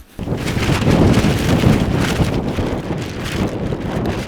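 Wind gusting over a changeable alpine lake by an island where kayakers are camping, a broad continuous rush buffeting the microphone.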